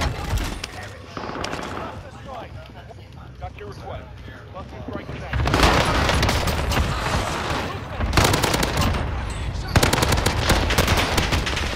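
Rapid automatic gunfire rattles loudly in Call of Duty, arriving in long, dense bursts separated by brief lulls, with voices in the background.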